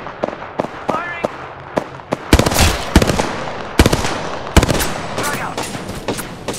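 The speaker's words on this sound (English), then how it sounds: "Firing!" Sharp, loud gunshots from Gibraltar's weapon in Apex Legends, fired in quick irregular bursts that crack out close over a busy in-game background, with a brief voice callout.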